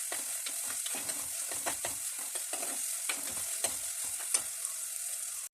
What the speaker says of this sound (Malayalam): ഇഞ്ചി, പച്ചമുളക് ഇതെല്ലാം കൂടി ചേർത്തതിന് ശേഷം നന്നായി വാട്ടിയെടുക്കുക